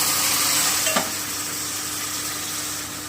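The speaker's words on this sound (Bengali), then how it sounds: "এই যে আমার ক্যারামেলটা কিন্তু তৈরি হয়ে এসছে এবারে আমি এখানে হাফ কাপ মতো একটু জল দিচ্ছি" Steady, broadband sizzle of half a cup of water hitting hot caramel in a pan for a plum fruit cake, loud and continuous with a brief clink near one second, holding constant then easing slightly toward the end, no voices.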